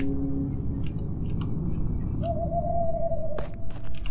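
Clicks from cycling through skills in the Witch Hunt game, small dry ticks scattered across the interface sound, joined by a steady tone and a sharper snap near the end.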